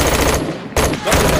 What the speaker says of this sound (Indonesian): Sempat terjadi adu tembak hingga membuat Samsul dan Chen terluka.